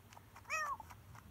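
A cat meows once in The Sims 4 video game, a short rising-falling cry standing out over a quiet background with no speech.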